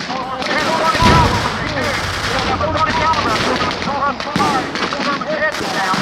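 Rapid rifle and machine-gun covering fire crackles through a D-Day field battle reenactment, loud and nearly continuous with overlapping shots, while voices shout and talk underneath.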